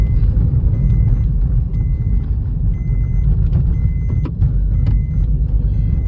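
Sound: Mahindra Thar car driving fast through village lanes

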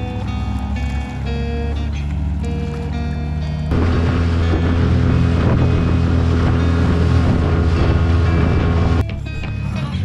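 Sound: motorboat engine running on a lake

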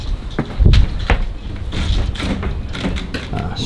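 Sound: door banging in the wind in abandoned hotel

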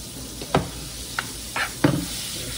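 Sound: stirring butter in a pan for garlic shrimps

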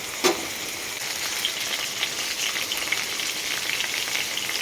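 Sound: potatoes frying in oil

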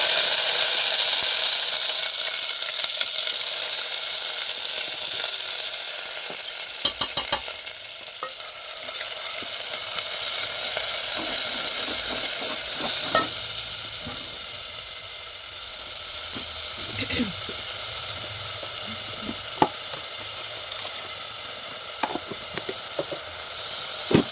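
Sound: ground masala frying in oil with mustard seeds and cumin

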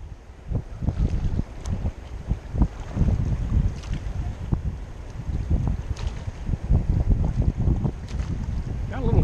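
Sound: wind while whitewater rafting on the South Fork American River

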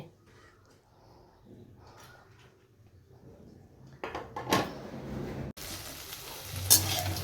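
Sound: frying potatoes and okra with onion and green chilli

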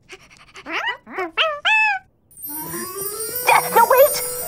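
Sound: puppy whimpering

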